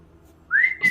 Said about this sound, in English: He's whistling in the woods.